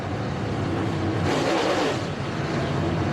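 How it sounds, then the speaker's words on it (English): A dirt late model race car at a Lucas Oil Late Model Dirt Series show, its big engine revving loud and close with quick throttle bumps swelling in the middle of a steady roar, no talk. "Bumping the throttle there just a little bit."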